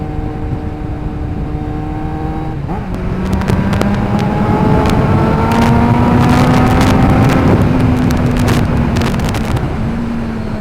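A Kawasaki ZX9R motorcycle engine rises through the gears while riding at night, with loud whining pitch sweeps and a brief drop at a gear change, all under heavy, constant wind rush on the microphone.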